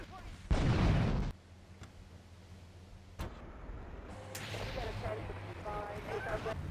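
Armored truck blowing up in GTA III, a single loud blast near the start followed by a sharp crack and lingering game sounds and engine-like rumble.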